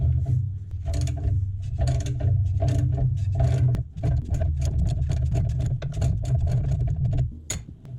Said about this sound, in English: And I'm going to use my ratchet to loosen it.